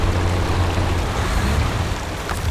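Water splashing and surging as a 12-wheel truck is hauled up out of a river in the SnowRunner video game, with a steady low engine rumble under a continuous rushing, wave-like wash.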